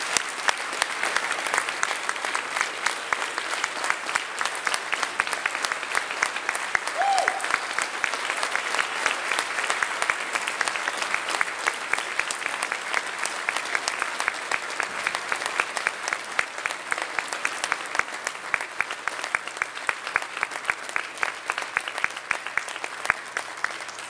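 Steady, enthusiastic audience applause at an awards ceremony greeting award winner Tim O'Brien, dense clapping from a large crowd that holds evenly for over twenty seconds without fading.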